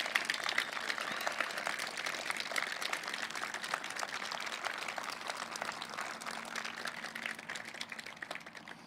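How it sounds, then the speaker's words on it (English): Steady audience applause fills a ceremony honoring Colorado's fallen heroes, a dense continuous clatter of many hands that holds at even strength for about nine seconds with no voices over it. "give them a round of applause to stand"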